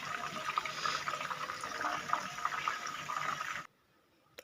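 Chicken steam-roasting in a pot hisses and bubbles in a steady, dense wash of sound for several seconds before stopping abruptly, with nobody speaking.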